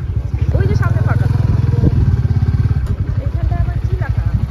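Motorbikes idle and rumble at a bike parking area near a beach fair, with a close, steadily pulsing engine note and faint voices in the background.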